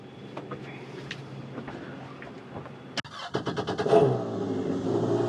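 A Yamaha boat engine cranks and catches near the three-second mark while being fogged for winterization, then rumbles and revs up loudly, a steady throaty drone continuing to the end.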